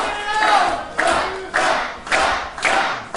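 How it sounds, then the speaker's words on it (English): Partisan crowd at a wrestling title match, Yoshinobu Kanemaru against Zack Sabre Jr, roaring for the hometown wrestler in loud rhythmic bursts of chanting and clapping, surging about every half second to second. "Highly partisan crowd supporting their hometown boy."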